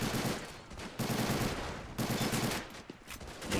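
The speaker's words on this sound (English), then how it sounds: "Pak 40 opening up close" A Pak 40 anti-tank gun in a World War II combat game fires close by, several heavy booming shots at roughly one-second intervals amid steady loud battle noise, with no talking.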